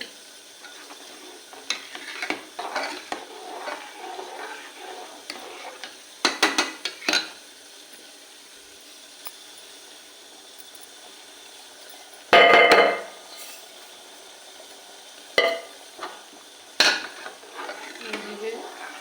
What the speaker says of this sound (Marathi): थोडा घालून हलवायचं म्हणजे गुठळ्या होत नाही